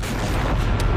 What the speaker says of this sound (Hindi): चंद सेकंड के बाद होता है बड़ा धमाका।